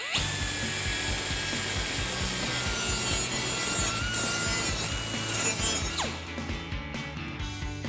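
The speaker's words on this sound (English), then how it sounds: "we're going to use our grinding wheel to clean up all of the burrs on the outside and the inside" A loud, continuous high-pitched grinding whine of an abrasive grinding wheel deburring a metal exhaust pipe, steady throughout, then cutting off near the end as the tool spins down.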